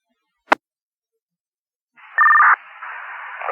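A residential phone line being called goes unanswered: a sharp click, a short pause, then a steady electronic ringback tone that starts and continues, heard alone and fairly loud.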